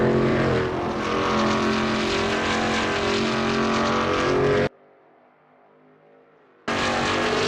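Veloce GTS-8 race cars roar in a video game race at Palmadero, a loud, sustained engine drone that cuts out for about two seconds and then returns at full strength.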